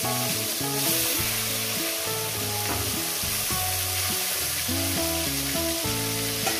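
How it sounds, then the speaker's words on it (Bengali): Pieces of fish fry in hot oil, a continuous hissing sizzle running steadily beneath louder background music. "এই মাছগুলো এখানে ভেজে নিয়ে দিচ্ছি।"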